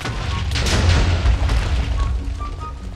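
A placed bomb detonates in Minecraft during a Kaiju versus Gipsy Danger mob battle, a loud deep boom that swells quickly and rumbles on for a couple of seconds as it fades.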